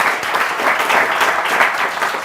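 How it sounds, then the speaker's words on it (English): Steady, dense applause from an audience thanking event sponsors, a full wash of clapping that holds at an even level from start to finish with no voices breaking through. "So huge round of applause for the sponsors."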